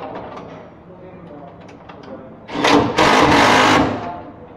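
A DeWalt cordless power tool fastens bolts on a high-voltage electrical panel, letting out a loud, close whirring burst of about a second and a half after quieter background clatter and someone speaking.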